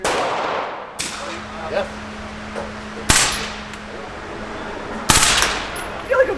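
A gun fires in short bursts at a police training range, three sharp, loud blasts spaced about two seconds apart, with a steady hum between them and a brief voice speaking.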